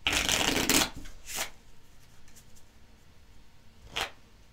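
A deck of playing cards is shuffled by hand in a few quick riffled bursts: a long crisp flutter at first, a shorter one after, then a final brief riffle, close and clear with no talk.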